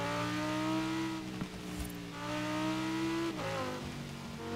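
A sports car engine in Forza Horizon 4 holds a steady, rising drone with strong harmonics, briefly dipping as it shifts, then climbing again; loud and continuous with no talk.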